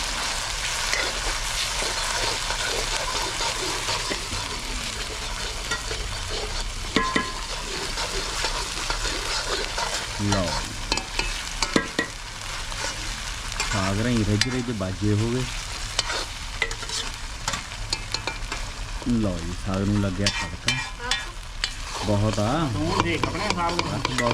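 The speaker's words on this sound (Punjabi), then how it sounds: "ਸਾਗ ਨੂੰ ਲੱਗ ਗਿਆ ਤੜਕਾ" Mustard greens saag sizzles steadily as a hot tempering is stirred through it in the pan, with scraping and frying crackle running throughout. Voices and brief musical tones rise in the background at times.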